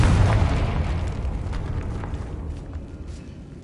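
A Confringo blasting spell explosion in the game Hogwarts Legacy, a loud, deep boom at the start that decays into a fading rumble with faint crackles.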